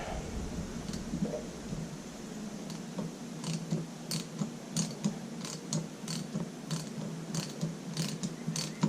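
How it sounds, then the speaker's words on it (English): A ratchet clicks in short repeated bursts while tightening set screws during a hydrostatic drive repair on a Walker mower, near and moderately loud, with no one speaking. "we'll go ahead and tighten up these set screws"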